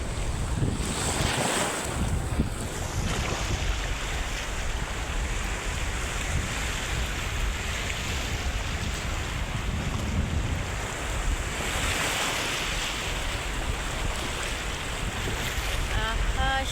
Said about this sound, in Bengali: সমুদ্র